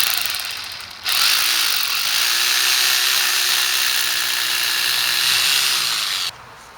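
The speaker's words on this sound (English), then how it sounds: "And I'm now ready to drill my holes." A power drill boring holes for glass balustrade spigots, a loud steady high whine lasting about five seconds that starts and stops abruptly, with a slight pitch rise near the end.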